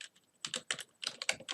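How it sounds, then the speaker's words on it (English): Quick bursts of keystrokes on a computer keyboard while entering a formula into an Excel spreadsheet, clicking close and clear in irregular clusters with short pauses between them. "I'm going to type in first of all our intercept"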